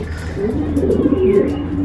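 Pigeons in a loft coo softly and steadily close by, their low murmuring calls blending with a faint background hum for a couple of seconds.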